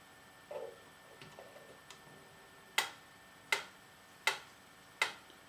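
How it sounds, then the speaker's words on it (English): A Wittner mechanical metronome ticks four times at an even pace, crisp and close, after a few soft faint clicks and handling noises at the start. "Let me show you with the metronome."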